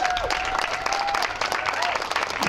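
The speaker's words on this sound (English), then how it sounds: "That deserves a clap." Brief burst of audience clapping at an education equity event in a state capitol, a dense patter of many hands filling the short moment, with a faint tonal ring beneath.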